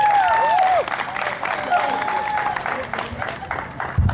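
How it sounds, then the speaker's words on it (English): Applause from a crowd at a games launch ceremony, scattered clapping continuing under sustained ringing tones and background voices. "Please, another round of applause."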